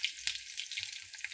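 Cumin seeds and garlic sizzling in hot oil in a pan, a short, steady, soft hiss with one sharp crackle near the start.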